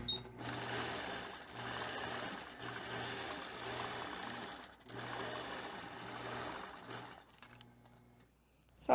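Sewing machine stitching along quilt appliqué, a steady whirring run in several bursts separated by short pauses, close and fairly loud with no talking.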